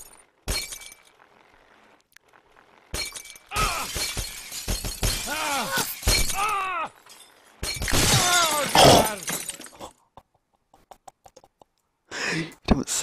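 Repeated glass shattering in the Happy Wheels video game, crashing bursts strung together with brief gaps while a voice talks over much of the stretch, then a final crash near the end.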